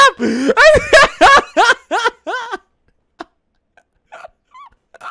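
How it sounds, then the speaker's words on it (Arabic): A dog in the Minecraft video game gives a quick run of loud, close barks, followed by a few softer, scattered whimpers after a pause. "وهذا كلب ناخذه معنا"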